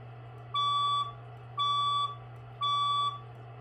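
A building fire alarm sounds during an evacuation test, giving three steady, loud electronic beeps at an even pace over a constant low hum.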